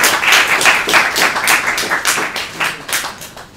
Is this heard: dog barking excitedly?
no